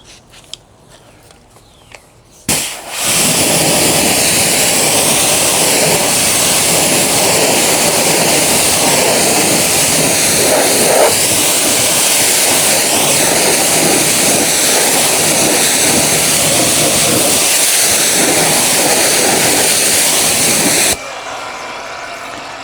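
A high-pressure water spray rinses a grimy car after a month-long road trip, starting abruptly with a loud continuous hiss and roar that holds steady for nearly twenty seconds before cutting back to quiet background.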